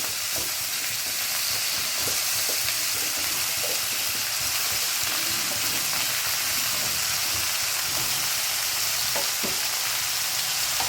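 Pumpkin and pointed gourd fry in a pan for a vegetarian mixed-vegetable dish. The sizzle is steady and close, with scattered crackles and occasional stirring scrapes, and no voices.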